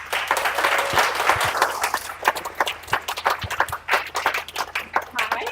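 Applause and clapping from a live audience at a community coffee gathering, welcoming the Tacketts to the stage; dense, sustained clapping that thins into scattered claps toward the end, with faint crowd voices mixed in.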